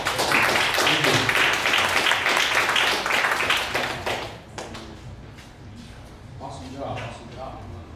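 An audience at a startup pitch event breaks into a burst of applause, loud dense clapping that fades after a few seconds into scattered claps, with voices talking underneath.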